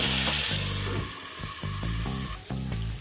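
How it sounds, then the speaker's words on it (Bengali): Mixed vegetables frying under a lid in a pan for a spinach medley, a dense steady sizzle with soft rhythmic stirring scrapes pulsing through it, close and continuous with no talk. "এইভাবে চাপা দিয়ে ভাজলে সবজিগুলো ভাজার সাথে সাথে সেদ্ধ হয়ে যায়"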